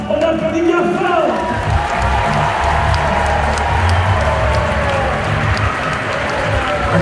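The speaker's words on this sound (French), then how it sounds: "Alors, pour les champions romains et gaulois, on applaudit bien fort." Crowd at a Parc Astérix arena show applauding the Roman and Gaulish champions, continuous loud clapping and cheering with whoops, mixed with voices and a background soundtrack.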